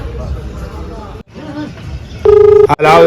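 A phone call being placed, with a loud electronic ringback tone in repeated pulses after a stretch of indoor talk and background voices.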